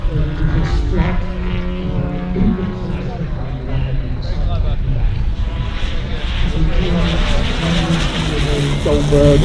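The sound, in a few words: model Chipmunk aircraft with DA 180 twin engine flying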